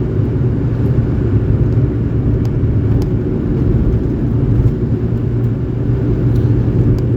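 A Suzuki Alto accelerates along a bumpy country road, its engine a loud, steady low rumble heard from inside the car, with no talking.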